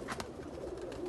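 Breeder pigeons coo softly in a loft, low throaty murmurs that blend with background noise over a brief moment, fairly faint and without talk.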